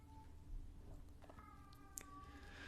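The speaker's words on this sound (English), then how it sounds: "Sorry for the screaming cats." Cats yowl indoors in a faint, drawn-out, wavering cry that rises toward the end over a quiet room hum.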